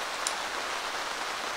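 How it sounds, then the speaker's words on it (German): Steady rain falls outside around a yurt camp, an even, dense hiss filling the short moment with no voices. "So, jetzt regnet es schon wieder draußen."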